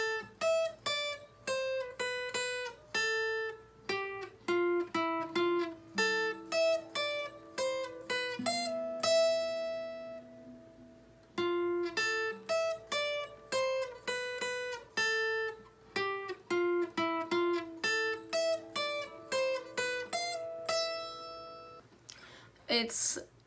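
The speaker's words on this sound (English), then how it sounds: "we're just going to play it on acoustic for right now" Acoustic guitar plays a riff, a bright, fast run of plucked single notes and ringing double-stops that keeps steady momentum with brief pauses, close and clear with no talking.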